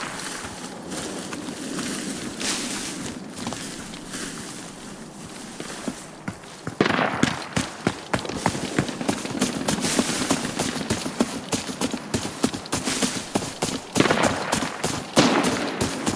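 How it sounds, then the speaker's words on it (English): Loud gunfire in the game Arena Breakout, with sharp shots and bursts crackling densely and repeatedly, growing heavier partway through with scattered footsteps mixed in and no talking. "That's a loud gun."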